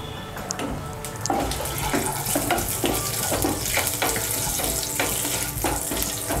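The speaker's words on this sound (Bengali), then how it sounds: "তেলটা গরম হয়ে গিয়েছে, এর মধ্যে একটা তেজপাতা, 2টো শুকনো লঙ্কা আর হাফ ছোট চামচ 5 ফোড়ন ফোড়ন দিচ্ছি।" Bay leaf, two dried red chillies and half a teaspoon of five-spice (panch phoron) sizzle in hot oil for masoor dal, a steady crackling hiss with bursts of louder spitting and faint utensil clinks, close and continuous.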